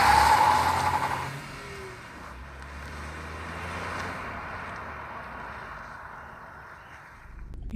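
A 2020 Volkswagen Polo 1.0 TSI BS6 drives along, its engine and road noise forming a steady drone that is louder at first, then settles and swells slightly.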